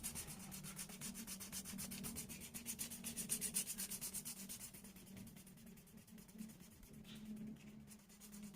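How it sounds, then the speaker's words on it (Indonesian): A leather edge being sanded with 1000-grit sandpaper makes a steady, quiet rhythmic rubbing that swells and fades, close up with no talking. "Oke, gue rasa udah cukup untuk proses amplas dengan amplas 1000 ini"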